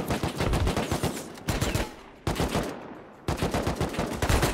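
Video game gunfire cracks out in rapid automatic bursts, loud and close, with three short pauses between the volleys.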